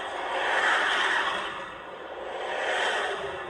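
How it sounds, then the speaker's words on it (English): Road traffic passing nearby, a broad whooshing swell that rises, eases off and builds again over a few seconds, with no one speaking. "Whoops, excuse that traffic noise."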